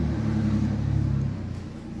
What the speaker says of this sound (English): sounds like we have another vehicle driving by